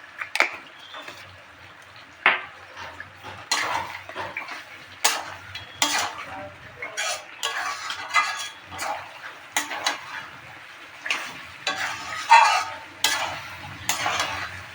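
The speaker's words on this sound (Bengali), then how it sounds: "ভালো করে কষে নিলাম।" A spoon stirring and scraping spices with garam masala in a pan while they fry for a biryani, loud irregular metallic knocks and scrapes over a quiet sizzle, no voices.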